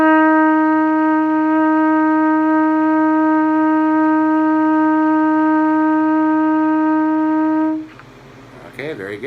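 A trumpet holds one steady F, fingered with the first valve, for about eight seconds, loud and close, before it stops and a voice briefly follows.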